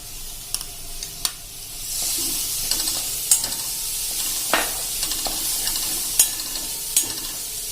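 Two medium crushed onions frying in a little oil for a dhaba-style sev tomato curry, a steady close hiss of sizzling with scattered spoon scrapes and clicks as they are stirred.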